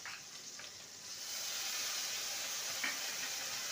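Onion, tomato and ginger-garlic paste fry in a pan for fish kofta curry, a soft sizzling hiss that swells after a second and then holds steady, faint and without speech.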